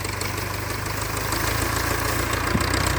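A farm tractor engine runs at a steady idle in a sugarcane field, a close, continuous low knocking chug with a slight rise in level partway through.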